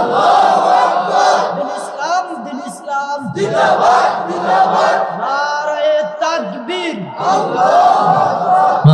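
A large crowd at a religious gathering chants takbir, loud massed voices roaring in repeated call-and-response waves, several rounds in a row, close and energetic.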